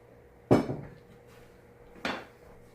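A spoon stirring bolognese sauce in a pot knocks twice against the metal, two distinct clanks over a low kitchen background.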